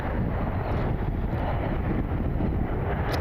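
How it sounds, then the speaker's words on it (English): Wind gusting across an open airport apron: a steady, loud low rumble of buffeting against the microphone, continuous and unbroken, with no voices. "Pretty windy again today,"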